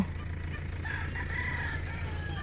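A rooster crows at a distance through a steady low rumble of background noise, its drawn-out call rising and wavering over roughly a second and a half.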